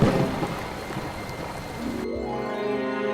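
Steady rain hisses through a cartoon thunderstorm, loud and dense for two seconds, then cuts to a low rumbling hum of thunder with a fading tonal drone.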